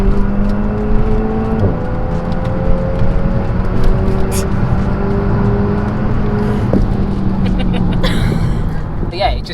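A modified Renault Megane RS Trophy accelerates hard, its engine note rising steadily through a gear with a brief shift break, heard from inside the cabin with road and wind roar and a voice talking over it.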